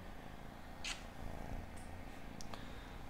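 A kitten purrs softly and close by, a faint, continuous low rumble that runs steadily through the whole stretch with no talking.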